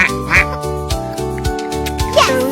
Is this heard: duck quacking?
yes